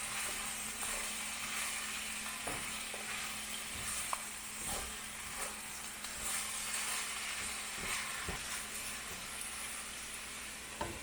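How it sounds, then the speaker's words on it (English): Sauce stirred into a pan of sizzling food gives a constant soft frying hiss under faint scraping of the spoon, with occasional light taps against the pan. "now I'm just going to add the sauce in. And stir it around."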